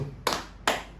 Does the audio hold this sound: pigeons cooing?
no